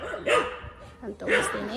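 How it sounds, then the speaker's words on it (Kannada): A dog barks twice, close and loud, at a forest-like temple site while people wait for an auto-rickshaw, with a person speaking over the barks. "ನಾಯಿ ಮತ್ತು ಇಲ್ಲಿ ಬೊಗಳ್ತಾ ಇದೆ ಯಾಕೆ"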